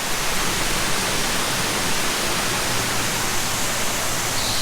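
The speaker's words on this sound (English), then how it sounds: "Well, we arrived at another waterfall." A waterfall rushing, a steady dense roar of falling water that stays even and loud for the whole stretch with no voices.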